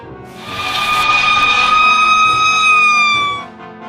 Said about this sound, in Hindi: इसके बाद फायर इंजन वहां आ पहुंचा।